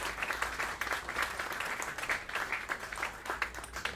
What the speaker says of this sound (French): Je lui cède la parole sous vos applaudissements